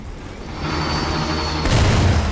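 A rocket launcher fires in the video game Borderlands 2, with a deep, booming blast cutting through steady game background noise about halfway through the short burst.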